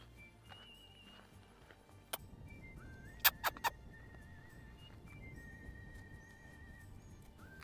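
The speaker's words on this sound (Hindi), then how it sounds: "घोड़े आ रहे हैं तो घोड़ों को करीब से देखते हैं" Horses approach on a quiet country road in rural North Carolina, heard faintly and at a distance, with a few sharp clicks and thin tonal whistles over low background rumble.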